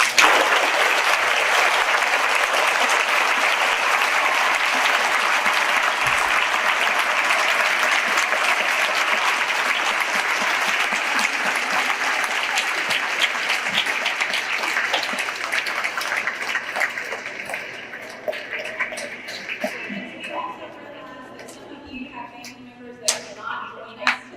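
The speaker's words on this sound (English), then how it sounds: "Please join me in showing gratitude to the servicemen and women with a round of applause." A school gym crowd at a middle school veterans celebration applauds servicemen and women in a long, loud, steady ovation that slowly thins and fades into scattered claps near the end.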